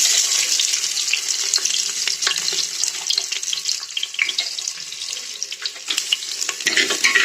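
Steady, loud sizzling and crackling of finely chopped onions frying in hot oil in a clay pot, with occasional stirring clicks, continuous throughout and no voices.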